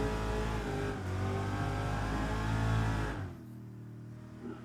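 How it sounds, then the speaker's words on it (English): A drift car engine revving hard on a track, a loud sustained harmonic drone that rises and holds, then drops off sharply as the clutch goes in and revs fall to a lower idle-like hum. "Slight turn in, clutch in, pull the e-brake."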